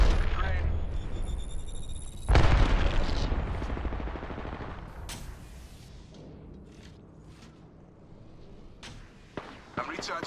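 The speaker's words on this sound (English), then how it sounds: "shots fired, and they're hitting me" Gunfire in the Apex Legends battle royale game, sharp shots and bursts with bright impacts over a busy in-game mix, loudest early then thinning to scattered reports, with voice lines spoken throughout.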